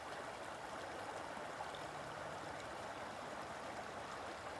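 Rainwater runs steadily down a road on a rainy day, a constant close rushing and trickling wash that continues evenly throughout with no talking.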